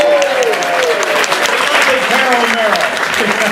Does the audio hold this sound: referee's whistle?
no